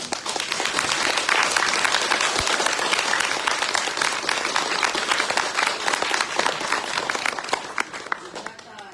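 A large indoor audience at a literary meeting with Éric-Emmanuel Schmitt claps for several seconds in dense, sustained applause that fades slightly toward the end.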